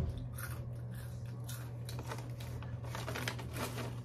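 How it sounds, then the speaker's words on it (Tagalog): Crispy potato chips crunched and chewed up close during a lunch in Baguio, a steady run of crisp bites and crackles over a low constant hum, with no talking. "Crispy chips."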